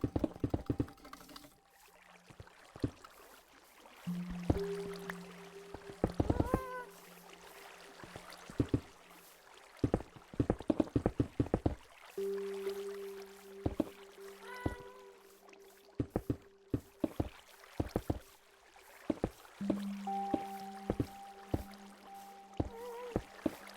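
Water splashing and paddling sounds in the video game AuraCraft, repeated in short watery bursts of knocks and sloshes over a steady game tone. No one speaks.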